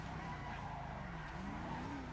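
Tires skid and squeal as a car drifts around a turn in GTA 5 Online, a gliding pitch riding over a steady engine drone, loud and continuous with no talk.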